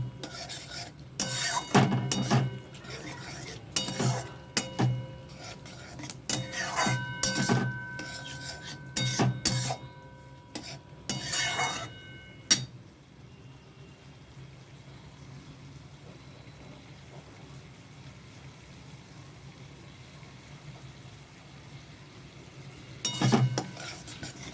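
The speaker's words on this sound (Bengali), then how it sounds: "এবার এর মধ্যে দিয়ে দেবো ভেজে রাখা পটলগুলো। দিয়ে একটু কিছুক্ষণ ধরে কষবো।" Fried pointed gourd (potol) stirred and sautéed in a pan, with repeated scraping and rasping strokes of a spatula and light sizzling, close up, then a quieter stretch before one last stir.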